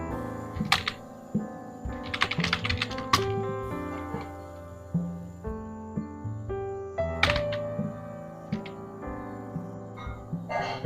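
Someone types a firm name on a computer keyboard: scattered clusters of quick key clicks and taps over a steady background music bed.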